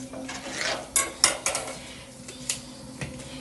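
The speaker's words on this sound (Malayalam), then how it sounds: "അപ്പം ഇങ്ങനെ ഇടയ്ക്ക് നമ്മളിത് ഇങ്ങനെ ഇളക്കി കൊടുക്കണം" Banana peel thoran is stirred in a pan Kerala style, with a close run of metallic spoon clanks and scrapes against the pan over a steady low background, a few sharper knocks standing out.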